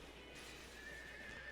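A horse in a video game whinnies once, a faint rising neigh holding steady for about a second over a low continuous background.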